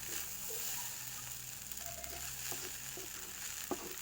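Rice stir-fried in a pan gives a faint, steady sizzle under a constant background hiss, with a few soft scrapes of a spatula and one small clink near the end, and no talking.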